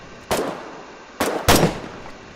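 Gunfire and mortar blasts in a tabletop role-play session, with three sharp loud broadband bursts, one early and two close together near the end, over a low steady background.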